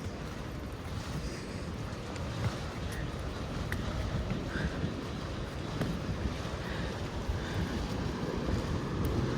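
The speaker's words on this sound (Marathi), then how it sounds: "धबधब्याचा आवाज येतोय." Steady broadband rush of a waterfall at Tamhini Ghat in the rain, constant and fairly loud from start to finish with no clear breaks.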